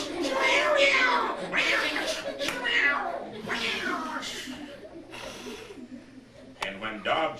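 A man vocally imitates fighting cats, producing a series of loud yowling, caterwauling cries in bursts with short gaps, close to the listener and alone.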